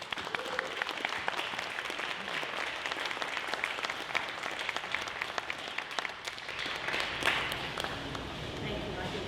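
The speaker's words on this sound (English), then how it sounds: "Let's give her a round of applause." A large crowd at a 30th anniversary celebration of a school of education breaks into sustained applause, a dense, even wash of many clapping hands heard from a distance, with murmuring voices beneath.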